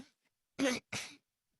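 Two short, sharp coughs close to the microphone, one right after the other, in an otherwise quiet room.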